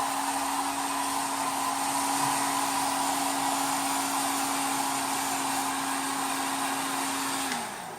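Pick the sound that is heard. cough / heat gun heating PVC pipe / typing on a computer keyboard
heat gun heating PVC pipe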